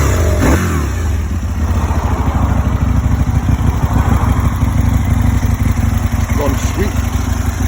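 A 2004 Aprilia RSV Mille motorcycle on its standard exhaust, heard close up as its engine revs briefly and then settles into a steady, throbbing run.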